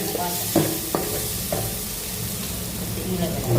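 Tamarind juice being poured into a hot pan for a fish curry, a steady broadband sizzle with a few sharp spatters, close and continuous with no talking.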